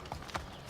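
A horse's hooves clip-clop in Assassin's Creed III. There are a couple of quick, moderately loud hoof knocks over a low background bed.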